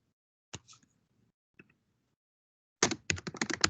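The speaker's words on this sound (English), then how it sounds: "Someone's typing." A couple of isolated key clicks, a pause, then a quick burst of rapid typing on a computer keyboard, close and crisp, heard through an online meeting.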